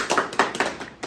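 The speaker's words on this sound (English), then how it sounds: "Poor people, clap." About five sharp claps come in a quick, steady rhythm, close by and brief, with no talking.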